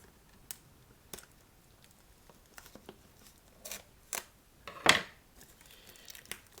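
Plastic shrink-wrap and cardboard packaging on a Dukes of Hazzard seasons 1–3 DVD box set being opened, with scattered crinkles, tears and snips coming in short bursts, a louder rip near the end, close and fairly quiet.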